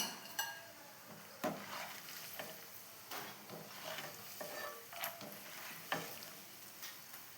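Fried chickpeas being scooped out of hot oil, with a close, soft sizzle and repeated scraping, clinking strokes of a ladle against the pan at an uneven rhythm.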